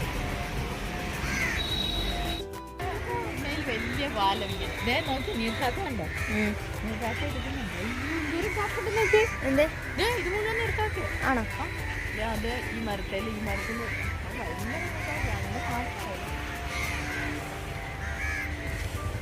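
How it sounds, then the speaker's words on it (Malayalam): A young crow caws repeatedly outdoors near a house by a bridge construction site, harsh calls scattered throughout, under intermittent talking. "കാക്ക, കുഞ്ഞു കാക്ക"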